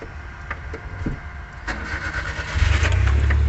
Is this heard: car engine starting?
yes